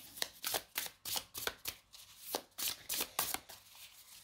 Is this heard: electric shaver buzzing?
no